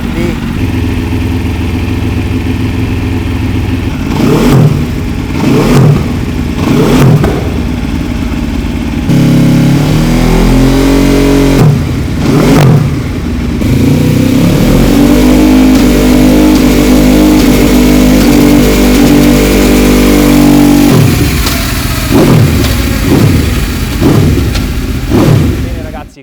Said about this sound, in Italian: in fase di accelerazione, anche da fermo, senti un rumore di aspirazione diverso